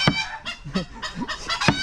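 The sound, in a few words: chicken clucking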